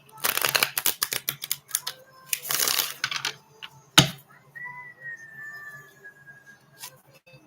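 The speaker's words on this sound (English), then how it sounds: "one more shuffle for Scorpio" Tarot cards are shuffled in several quick riffling bursts, followed by a sharp snap and then a soft sustained whistle-like tone, heard close and fairly loud with no talking.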